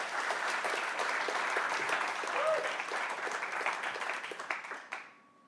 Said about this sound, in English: If you can give me a huge round of applause